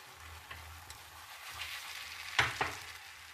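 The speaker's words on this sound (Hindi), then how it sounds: "ऑयल से ग्रीस करेंगे और इसको हम इसमें दूसरी तरफ से भी सेक लेंगे।" An egg and vegetable mixture fries in an oil-greased pan, a faint steady sizzle with soft crackles and a couple of sharper scraping stirs near the end.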